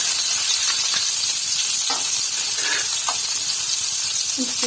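Onions sizzle in hot oil in a pan with a loud, steady close hiss, broken by a few soft clinks and stirs.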